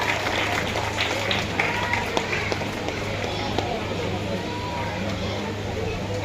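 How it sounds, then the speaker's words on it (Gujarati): An audience claps in welcome for a guest at a village school admission festival, a dense patter of applause with crowd murmur and talk over it. "આપણે સૌ તેમને તાળીઓથી વધાવશું"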